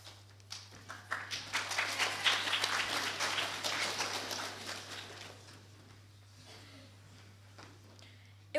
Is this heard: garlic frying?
no